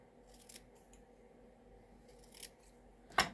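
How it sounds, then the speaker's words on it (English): A pair of scissors cuts paper for handmade note cards, giving a few faint soft snips followed by one sharper, louder cut at the end in an otherwise quiet room. "you can do this with a pair of scissors. Just cut."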